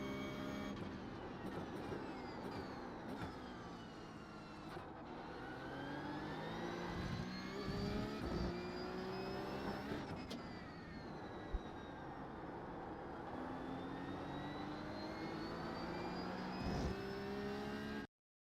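Porsche 911 Cup 992.2 race car in iRacing at full speed around the Barcelona circuit, its engine loud and close throughout, pitch rising through gears and dropping for corners in repeated sweeps.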